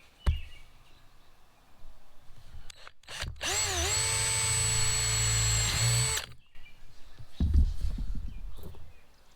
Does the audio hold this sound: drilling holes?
yes